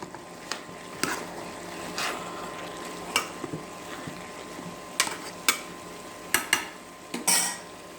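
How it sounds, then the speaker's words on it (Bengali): Cabbage labra with a fish head is stirred in a pan, a utensil scraping and knocking against the metal in irregular loud clicks over a low sizzle, with no talking. "আমি এখন এগুলোকে একটু ভালোভাবে নেড়েচেড়ে দিব।"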